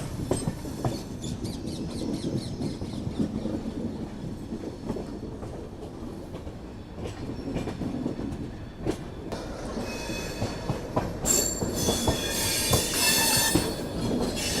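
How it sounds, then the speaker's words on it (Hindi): Sachkhand Express train rolling along the rails, a steady loud rumble of wheels with repeated clicking over rail joints and rising metallic squeal toward the end, no voices. "सचखंड एक्सप्रेस अपनी नई दिल्ली की ओर बढ़ते हुए।"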